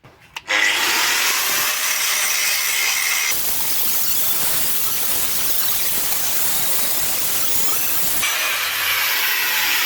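An angle grinder starts up and grinds down welds on a metal bench frame in a loud, continuous harsh hiss for several seconds, with no talking.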